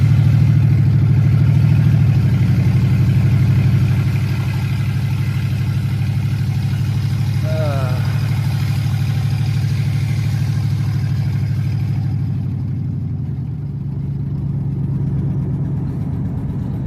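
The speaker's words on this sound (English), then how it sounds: "Comment below if y'all think this truck's loud" A truck engine idles loud and steady just after a cold start, a deep continuous rumble with a slight drop in level toward the end.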